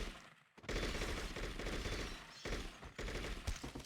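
Automatic gunfire from a shootout in True Crime: New York City, fired in several rapid bursts separated by short breaks, close and fairly loud with no voices.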